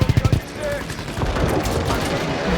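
A rapid burst of machine-gun fire opens the scene in the video game Call of Duty: WWII, with five or six quick, punchy shots before dense battle noise takes over, and someone talks over it.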